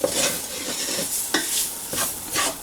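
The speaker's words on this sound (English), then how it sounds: "Just want to stir it around aggressively." Flour-coated vegetables scrape and hiss in a hot pan as they are stirred vigorously, with repeated sweeping strokes over a steady, close sizzle and no talking.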